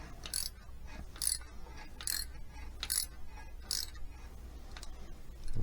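A ratchet clicks in repeated short bursts while tightening a bolt on a 5.3 LS exhaust manifold, the pawl ticking crisp and close with brief pauses between strokes.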